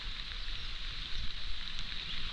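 Steady rain falling on a farm field in the Konkan countryside in the morning, a continuous even hiss of drops that holds for the whole stretch with no voices.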